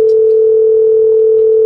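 A loud, steady telephone dial tone holds for under two seconds while a call is about to be placed, a single unbroken pitch close to the ear.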